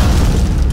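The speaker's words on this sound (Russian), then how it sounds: "Грузовик, походу, взорвался рядом со мной." A truck blows up close by in a video game: a loud, dense blast that fills the moment with a deep rumbling roar and no voices.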